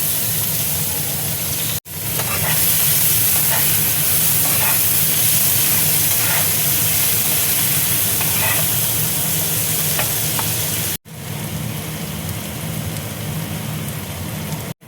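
Chopped onion and curry leaves frying in ghee, a loud, dense, continuous sizzle like heavy rain, with occasional stirring and two brief abrupt breaks.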